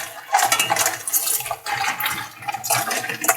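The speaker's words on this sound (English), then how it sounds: "I can hear the sand that's in there." Water spraying and splashing over clams shifted in a colander, with light gritty rattling of sand and clinking shells through the rush of water.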